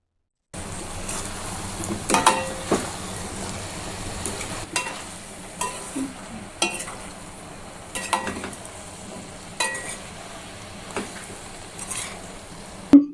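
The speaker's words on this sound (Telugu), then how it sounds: "మష్రూమ్స్ అన్నీ బాగా కలిసేటట్టు, ఈ మసాలా అంతా మష్రూమ్ ముక్కలకు పట్టేటట్టు బాగా కలిపేసుకోవాలి." Mushroom pieces are stirred into a spiced masala of chili powder, turmeric and coriander powder in a frying pan, giving a soft steady sizzle broken by repeated sharp scrapes and clinks of the spoon against the pan, close and clear, with no talk.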